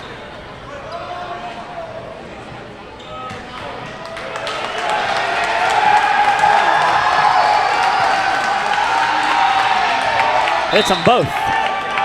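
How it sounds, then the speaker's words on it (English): A basketball crowd in a college gym for a North Greenville vs. Southern Wesleyan men's game swells into a loud, sustained cheer for player Josh Moore, rising over a commentator's voice and a few ball bounces. "The big cheer you just heard is for number 3, Josh Moore"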